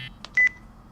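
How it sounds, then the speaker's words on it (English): Short electronic phone tones in the visual novel game Chaos;Child, a few quick synthetic beeps ending in a brief steady tone, clean and alone. "A phone rang."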